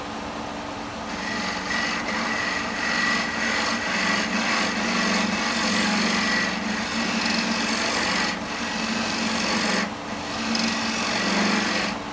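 Woodturning lathe tool cutting and hollowing a large segmented, lidded wooden sweet jar, a steady close scraping and rasping under the whir of the spinning lathe, with no talking.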